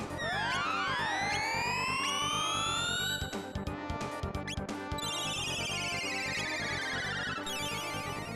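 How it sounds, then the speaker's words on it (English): Emergency alert notification on a phone blaring, with rising siren-like sweeping tones and then a dense, harsh warbling alarm, loud and continuous over game music. "I had an emergency notification go off on my phone there."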